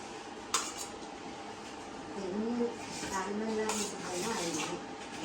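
A spoon mixing puttu flour in a dish, with clinks and soft scraping against the bowl while voices talk nearby.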